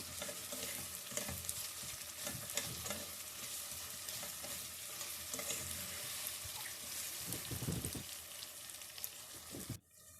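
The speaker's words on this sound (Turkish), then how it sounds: "Bir iki dakika kavurmaya devam ediyoruz." Onions, meat and tomato paste sauté in a pan, a continuous close sizzle of frying broken by scraping stirs, with no talk, ending in a sudden drop near the close.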